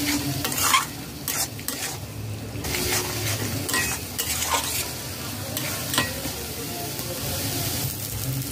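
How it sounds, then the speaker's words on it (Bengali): Ground spices, chili, turmeric and Kashmiri chili powder with a splash of water, fry in a pan over a low-medium flame, a constant sizzle under repeated close scraping and clinking stirs. "লো টু মিডিয়াম ফ্লেমে 2 মিনিট গুঁড়ো মশলা দিয়ে কষিয়ে নিয়েছি।"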